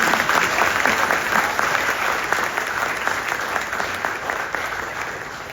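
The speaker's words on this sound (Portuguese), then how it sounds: "Uma salva de palmas para ela também." Sustained audience applause at a university book launch, dense clapping that holds steady and slowly tapers over several seconds.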